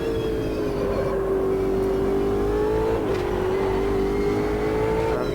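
In the Automobilista 2 racing game, a Brazilian stock car engine drones steadily at high revs, with its pitch dipping slightly at a gear change midway through.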